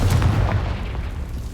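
A Confringo fire spell blasting in the video game Hogwarts Legacy: a single heavy low boom at the start that rumbles and fades over about a second, with no voices.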